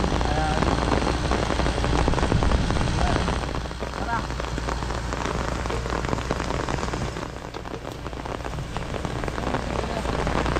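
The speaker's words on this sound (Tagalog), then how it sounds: "Kahit umuulan, bumabagyo, no?" Heavy storm rain pours steadily on surfaces outdoors during a rescue, a dense broadband wash that stays loud for the whole stretch, with voices talking over it.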